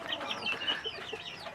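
Chickens cluck close by in short, chattering bursts with a few higher squawks, all fairly faint and with no voices.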